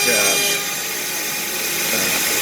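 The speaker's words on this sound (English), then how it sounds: "after the 1/4 inch end mill, we're running there to cut out the handholds and the slots" A CNC router with a 1/4 inch end mill cuts handholds and slots in a kayak hatch, a steady high-pitched whine with grinding cutting noise, close and continuous.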